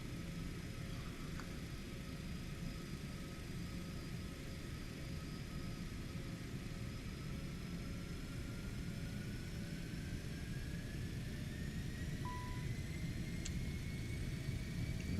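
Cessna Citation X jet engines at takeoff thrust in a flight simulator game: a steady, continuous broadband roar with low rumble and a faint rising whine, constant and loud throughout with no talk.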